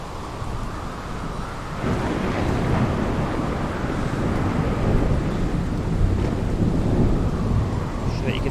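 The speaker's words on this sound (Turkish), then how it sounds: "Şimşek yıldırım düştü." Thunder rumbles during a storm in the video game The Solus Project: a quiet wash gives way to a loud, sustained broadband roar of thunder and rain that continues to the end.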